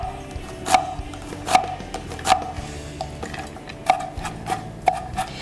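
A knife chops onions for a vegan dumpling filling on a board: about seven distinct, well-spaced thuds, close and fairly loud, over quiet background noise.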